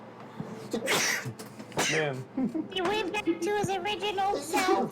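A sneeze bursts out among casual chatter, with a second sharp exhalation soon after, both close and loud, while people keep talking around them.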